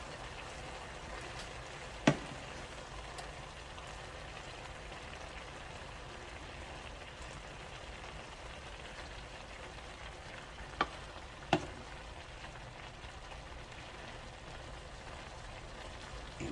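Turkey sausage, carrots and cabbage being stirred together in a hot pot: a soft continuous sizzle and crackle with a few sharp clicks of the utensil against the pot, no talking.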